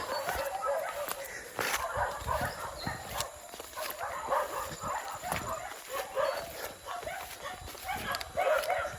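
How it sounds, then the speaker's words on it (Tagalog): Several dogs bark repeatedly at a moderate distance, overlapping yelps and woofs in an outdoor grassy setting, with some background noise. "Daming aso dyan. Maraming daming mga tahulan nila."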